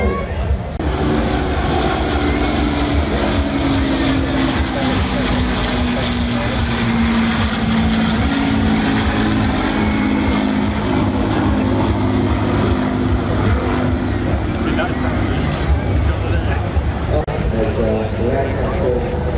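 The BBMF Avro Lancaster PA474 bomber flies past at the International Ayr Show Festival of Flight 2024, its piston engines giving a loud, sustained droning roar with a slowly shifting pitch, mixed with crowd or commentary voices.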